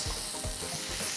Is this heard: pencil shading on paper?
no